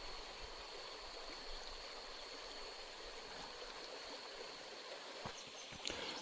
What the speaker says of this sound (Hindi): एक तो पानी की आवाज़ आ रही ना